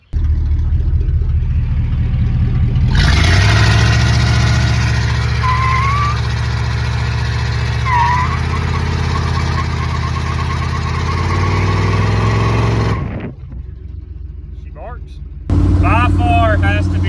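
An old donor truck, bought as the basis for a budget Ventura build, rumbles loudly and steadily while being driven, its engine note droning and shifting pitch, then cutting back to a lower idle near the end, with people talking over it.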